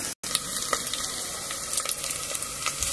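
Oil and food sizzling steadily in a frying pan, a continuous close crackle with small pops and stir scrapes, no voices.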